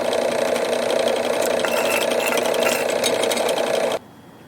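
Drill boring holes through the exhaust headers of a Harley Sportster 1200, a loud steady whine with rattling that holds for about four seconds and then cuts off abruptly.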